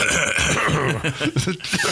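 During a football podcast, a man coughs and clears his throat several times in short, rough bursts close to the microphone.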